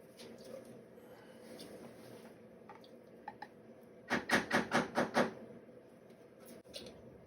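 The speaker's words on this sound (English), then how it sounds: "scrape it off of that center shaft, just get the last of the cream out" Scraping vanilla xylitol ice cream off the center shaft of an ice cream machine container gives a quick run of about six loud, rhythmic scrapes in the middle, with a few softer scrapes and handling noises around them.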